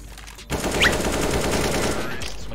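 Gunfire in the game CS:GO, a sudden loud burst of shots that continues as a steady, dense rattle of automatic fire for a couple of seconds, with no one talking over it.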